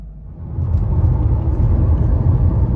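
An old Mercedes W124 210 car pulls away with a steady low engine rumble that swells slightly after the first half second, close and continuous with no talk.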